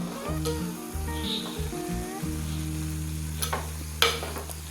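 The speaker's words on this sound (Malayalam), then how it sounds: "ജസ്റ്റ് ഒന്ന് ഇളക്കി കൊടുക്കാം കേട്ടോ. ഇത് പെട്ടെന്ന് തന്നെ ആകും കേട്ടോ." Kerala anchovy (kozhuva) fish peera is stirred in a pan, giving soft scraping and stirring sounds over a low, steady sizzle and a continuous tonal hum, with a sharper clatter near the end.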